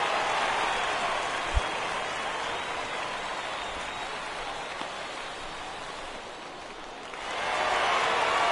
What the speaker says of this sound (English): It's always nice to give your fans at home something to cheer about, and they definitely did that right here